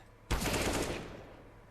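A single sharp gunshot crack from a Counter-Strike: Global Offensive match in an ESEA league game bursts out suddenly and fades over a fraction of a second.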